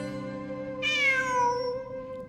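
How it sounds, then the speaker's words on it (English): A cat meows once in the game Genshin Impact, a clear, close drawn-out mew that falls in pitch, heard over a soft steady background hum. "It really is a cat."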